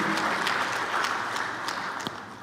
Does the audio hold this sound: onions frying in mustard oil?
no